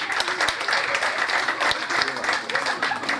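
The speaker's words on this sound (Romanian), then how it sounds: "Și aplauze pentru domnul Aurel Corlaciu de la Radan Studios." Audience applauding at a Positive Day event in Sibiu, with dense, steady clapping that fills the whole stretch and a voice faintly underneath.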